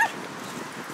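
Dog gives a short yip at a dog show awards ceremony, one brief close call at the start that fades into crowd and hall ambience.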